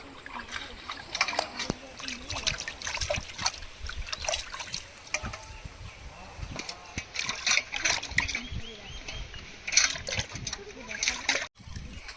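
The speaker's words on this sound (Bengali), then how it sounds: "মাছ কাটা হয়ে গেছে, এবার মাছগুলো পরিষ্কার করে ধুয়ে নিচ্ছি" Water splashes and trickles in uneven bursts as cut pieces of katla fish are washed by hand, with close sloshing and dribbling throughout.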